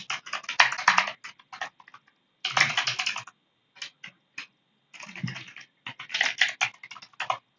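Test email addresses are typed on a computer keyboard in four quick bursts of close, crisp key clicks separated by short silent pauses.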